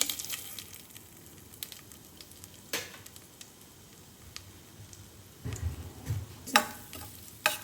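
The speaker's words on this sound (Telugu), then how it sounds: "కొంచెం ఇది గోల్డెన్ బ్రౌన్ వరకు వేగితే సరిపోతుందండి." Rice semolina frying in ghee for coconut payasam, a faint continuous sizzle with occasional stirring scrapes and clinks of the spoon against the pot, close and quiet.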